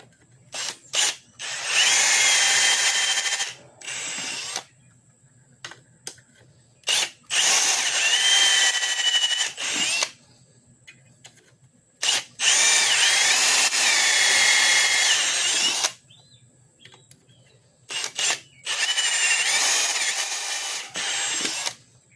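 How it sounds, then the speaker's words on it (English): A power drill runs in several loud bursts separated by pauses, its pitch sagging and straining under load as it bogs down drilling for an M8 tap in a Hemi exhaust, close up with no speech. "You'll watch and you'll hear it when it's time for you to get the shavings out. You hear it start to bog."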